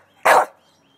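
A single short, sharp dog bark, close and fairly loud, with near silence before and after.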